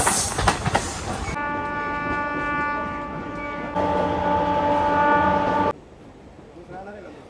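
Train pulling out of Ambasa railway station in hilly Tripura, opening with clattering rolling noise, then a long steady horn blast that swells louder midway and cuts off, leaving a quieter rumble.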